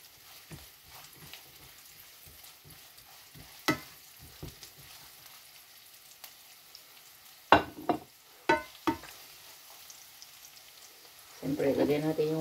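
Mushrooms sizzle in a pan with onion and garlic for pasta, a soft steady frying hiss broken by scattered clatters and stirring scrapes, with a voice talking near the end.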